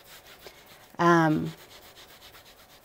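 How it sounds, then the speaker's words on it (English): A paper towel scrubs across paper while a painter lays down an underpainting: a single short, rough rasping stroke like sawing a log, with quiet before and after. "you can hear the paper towel like, sounds like I'm sawing a log"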